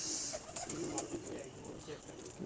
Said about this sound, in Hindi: बड़ा पुराना कबूतर है ये।